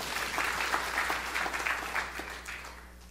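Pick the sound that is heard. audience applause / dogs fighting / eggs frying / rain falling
audience applause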